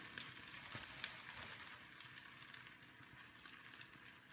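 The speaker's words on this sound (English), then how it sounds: "It's already sizzling." Oil sizzling steadily in a hot frying pan while frying French toast, a continuous crackling hiss with small pops, close and fairly quiet, no voices.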